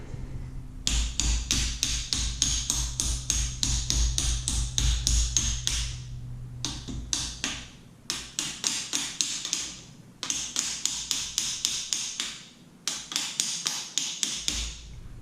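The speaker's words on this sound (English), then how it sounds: "to coax it in, we're gonna use a hammer" Rapid hammer taps on metal arrive in quick bursts, four runs of steady blows separated by short pauses, close and fairly loud, as a part is hammered into place on a two-stroke powered bicycle.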